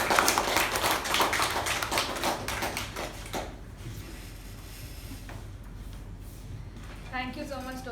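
Clapping from a small Toastmasters meeting audience welcoming a Toastmaster. Brisk, close hand claps fill the first few seconds, then thin out to sparse taps over a low hum, with a voice starting at the end.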